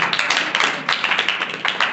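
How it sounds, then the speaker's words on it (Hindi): Students in a classroom clap their hands together, a loud, close burst of rapid, rhythmic claps that continues steadily without any talking. "ताली बजा दो।"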